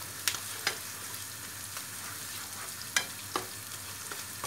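Tomato and pepper paste sizzles quietly in a pan with a soft constant fry, broken by sharp scraping ticks as it is stirred, heard close with no talking.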